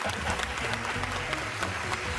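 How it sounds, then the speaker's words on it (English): Steady crowd applause at moderate level, continuous throughout with a few sharper claps standing out, during a live call-in comedy show. "Give yourself a round of applause"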